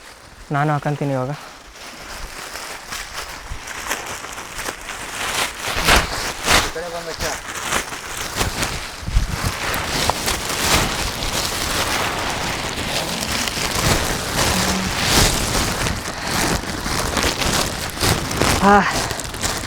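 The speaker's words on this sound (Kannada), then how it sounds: "ಇನ್ನೂ ಸ್ವಲ್ಪ ಮಳೆ ಜೋರಾಗಿ ಬರಲಿ ಗೈಸ್" Heavy rain at Kavaledurga fort patters densely and loudly on surfaces, building into a steady downpour while people talk over it.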